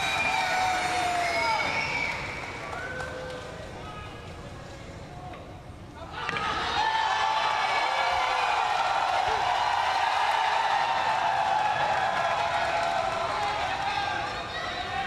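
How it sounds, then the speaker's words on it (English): Crowd at a professional pool match in the Reyes Cup, Team Asia against Europe, breaking into cheers and applause after a big shot by Johann Chua; the roar swells sharply midway and stays loud and sustained under commentary. "the crowd, they're responding too"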